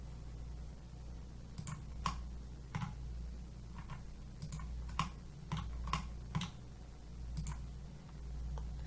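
Sharp, sparse mouse clicks at a computer running CAD software, single and double taps spaced irregularly, close and dry over a low steady hum, with no talking.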